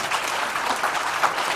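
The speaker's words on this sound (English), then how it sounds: "please welcome my panel here with a big round of applause to make them feel well" An audience at a global forum on childhood pneumonia gives a steady, full round of applause to welcome a conference panel. The clapping is even and sustained throughout, with no talking.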